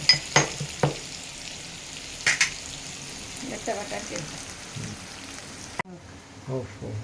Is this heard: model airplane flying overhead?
no